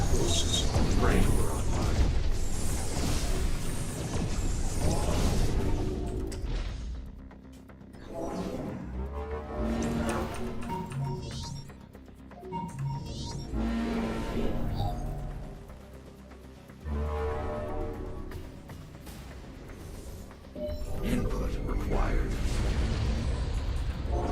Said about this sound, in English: Explosions are happening, of course, because LOL.